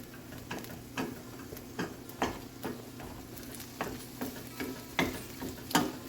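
Ground turkey browning in a frying pan, a utensil mashing and scraping it in regular strokes about every half second over a low steady sizzle, close and clear.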